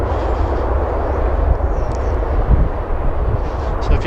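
A jet airliner arriving at Philadelphia airport, heard from near the end of the runway, gives a loud, steady engine roar that fills the clip with broadband rumble and faint high whine.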